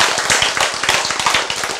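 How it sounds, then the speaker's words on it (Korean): A church congregation clapping together, producing rapid, sharp, closely spaced hand claps in a brisk and fairly loud burst that sounds near and continues without any talk over it. "박수."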